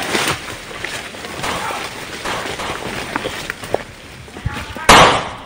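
Firecrackers go off outdoors in scattered sharp pops, ending in one louder, closer bang, with people talking and shouting throughout.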